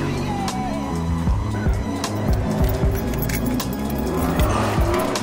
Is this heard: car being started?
yes